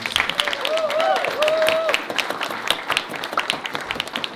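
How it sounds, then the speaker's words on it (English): An audience at a free speech poetry slam applauds a poet, scattered clapping mixed with whoops and cheers early on, then thinning out amid crowd voices. "Can we give her one more round of applause?"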